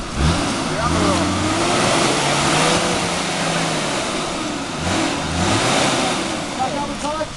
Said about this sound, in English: Now drive forward, you drive to the right.